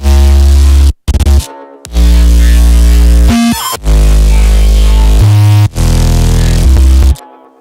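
Loud, gritty bass synth chords with heavy distortion, playing in short sustained blocks separated by brief gaps, thick and saturated throughout.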